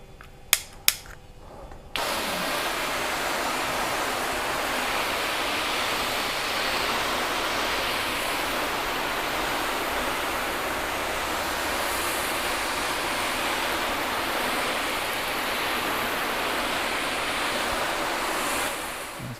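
Water is sprayed to rinse a car during a paint coating test, a loud continuous hissing rush that starts after a couple of quiet seconds with faint clicks and keeps a steady level to the end.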